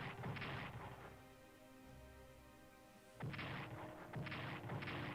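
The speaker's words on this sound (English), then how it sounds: "The AI sure loves its artillery." Booming artillery bursts in the World War I strategy game Strategic Command, loud dull thuds in clusters, with a quieter lull in the middle before the rumbling barrage resumes.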